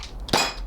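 Glass bottle struck by a pellet from a Luger P08 CO2 4.5mm air pistol gives a single sharp clanging crack followed by a brief ringing tail.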